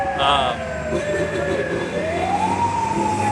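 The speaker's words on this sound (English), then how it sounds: "There's an ambulance." A wailing emergency siren rises and falls steadily in the distance over busy street noise and traffic rumble.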